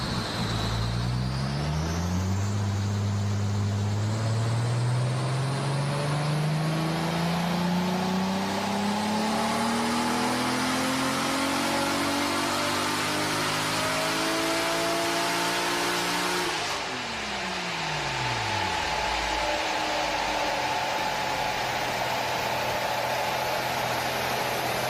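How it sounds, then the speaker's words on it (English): Nissan Skyline ER34 GT-t with a Power FC and bigger injectors running on a dyno under boost: the engine drones loud and steady as revs climb slowly, holds high, then drops sharply before settling back at a steady pitch. "Jim slowly brings up the boost and fine-tunes the Power FC"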